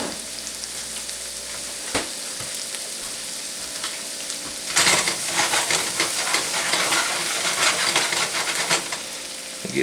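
Vegetables sizzle steadily in a hot pan for a BBQ chicken quesadilla, the frying growing louder and busier midway with crackling pops and occasional scraping stirs.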